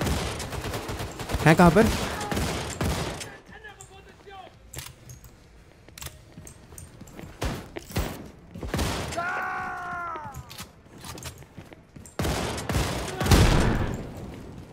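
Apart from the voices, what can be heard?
machine gun shotgun firing in video game Wolfenstein II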